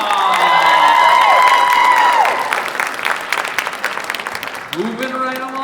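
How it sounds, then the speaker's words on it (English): A school talent-show audience cheers, whoops and applauds a young contestant, loud and close for the first couple of seconds and then thinning into lighter clapping and scattered shouts. "Contestant number 2, give her a round of applause."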